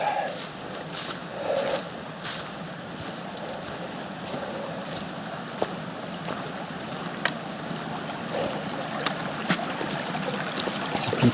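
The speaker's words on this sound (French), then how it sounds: "on va traverser le ruisseau là" Water trickles and burbles steadily in a small stream in the Creuse countryside near Pontarion, France, a continuous gentle wash with occasional small splashes and clicks.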